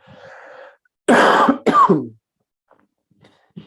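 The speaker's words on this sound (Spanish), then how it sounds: "Disculpen la tos." Two harsh, loud coughs in quick succession follow a quiet muffled voice, then near silence with faint rustles.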